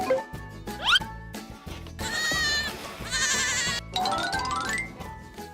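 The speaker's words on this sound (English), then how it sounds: "The goats are led out every morning to find food, and the baby ones will follow the big ones." Goats led out to graze in the morning, kids following adults, bleat repeatedly in a mix of high wavering cries and lower calls, overlapping and close, with no talk.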